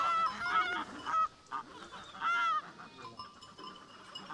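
A flock of domestic geese honks repeatedly at a farm in cold weather, rough nasal calls in bursts, moderately close.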